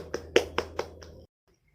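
Brief applause from a class for a presenting student group: five sharp hand claps in an irregular burst, fairly close and modest in volume, ending abruptly in near silence.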